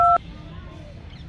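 A phone number being dialed, a short loud keypad tone at the start followed by a quiet background hum.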